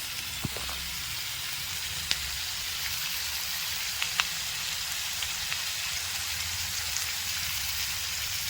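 Vegetables sautéing in a pan for an avarakkai (broad bean) and dal dish, giving a steady, close, even sizzle with occasional faint pops and no talking.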